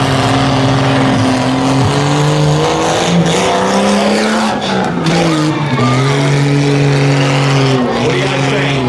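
A Jeep revs hard during a ramp competition at Car Wars, its engine droning loud and steady with rising and falling pitch as the throttle changes, close by, with crowd or commentator voices mixed underneath.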